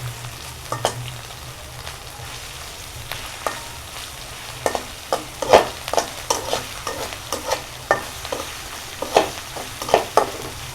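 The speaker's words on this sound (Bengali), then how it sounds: "এমনভাবে ভাজতে হবে যেন শুকনা মরিচটা একটু কড়া কড়া ভাজা হয়।" Dried red chillies fry in a hot pan, a steady sizzle broken by frequent sharp scraping stirs at close range, with no voices.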